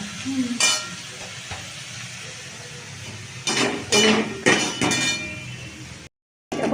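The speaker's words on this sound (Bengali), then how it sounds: "বড়িগুলো ভাজা হয়ে গেছে আর এগুলো একটু ভালো করে ভাজতে হবে" Steady sizzle of lentil dumplings frying in oil, with bursts of stirring and clinks of a utensil against the pan, close by.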